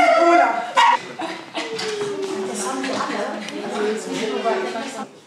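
Dogs in a dog café in Würselen give short yips and barks that come through steady chatter and movement. The sounds are close and moderately loud.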